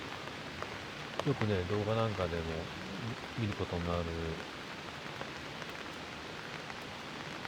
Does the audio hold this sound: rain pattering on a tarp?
yes